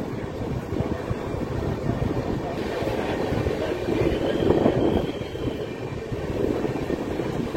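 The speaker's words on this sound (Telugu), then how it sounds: "చీరాల స్టేషన్ నుండి అయితే మన ట్రైన్ అయితే బయలుదేరిపోయింది." The Amaravathi Express passenger train runs after leaving Chirala station, a steady low rumble and rattle of the moving carriages that swells slightly midway, with no talk over it.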